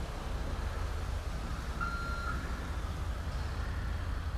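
Truck reversing alarm in GTA 5, a steady electronic beep over constant low engine rumble and road noise, with one clear tone standing out near the middle of the span.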